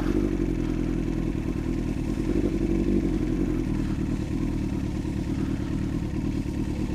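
A motorcycle ridden through snow gives a loud, steady low engine drone up close, with faint clattering over it and no voices.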